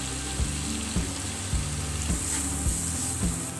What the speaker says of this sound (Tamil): வெங்காயத்தை கொட்டிக்கலாம்.